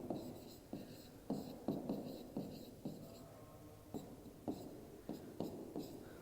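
Numbers being written by hand during a math lesson, a faint close series of scratchy pen strokes and taps in irregular short bursts, with no speech.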